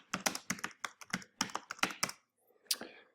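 Someone types a short name on a computer keyboard: quick bursts of crisp, close key taps in an uneven rhythm, a brief pause, then one final keystroke.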